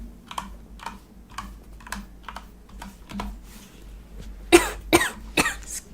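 Several sharp, close coughs come in quick succession near the end, following a stretch of soft, scattered keyboard clicks.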